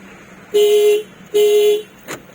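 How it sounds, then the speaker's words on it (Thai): Two short electronic lock beeps from a Toyota Fortuner's remote, evenly spaced and loud and close, followed by a faint brief click. "อันล็อก ล็อกแล้วก็สามารถเรียกเสียงรถได้นะครับ"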